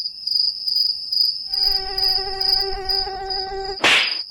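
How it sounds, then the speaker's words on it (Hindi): A mosquito whines close by at night outdoors where people are sleeping, a thin high buzz that swells and fades for several seconds before a sudden sharp burst, like a slap, near the end. "ससुर मच्छर काट गया।"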